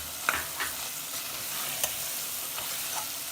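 Garlic-ginger paste and tomatoes for chicken biryani fry in a pan with a steady soft sizzle, broken by a few light scrapes of a stirring spoon.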